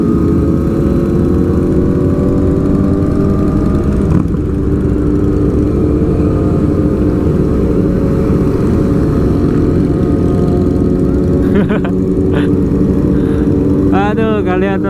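A loud, rough motorcycle engine without a muffler drones steadily throughout, unmuffled and raspy, with brief revs and sharp chirps near the end.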